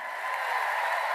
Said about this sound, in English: Let's give him a round of applause so he can hear it.